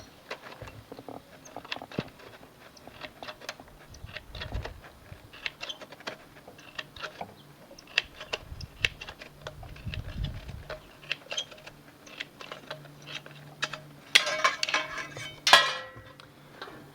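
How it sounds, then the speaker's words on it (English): A rolled-over top edge of a metal gutter being cut, heard as a run of small clicking, snipping strokes with scattered metallic clinks, close up and mostly steady, with a louder burst of cutting near the end. "So we want to cut that along here."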